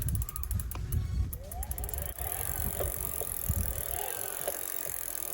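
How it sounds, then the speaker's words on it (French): Orbea Gain M20 2020 road e-bike with its assist motor engaging while pedaling: a faint whir from the drive, light mechanical ticking and a ratchet-like chatter, with steady road and wind noise throughout. "là j'ai à peine tourné et le moteur se met en marche"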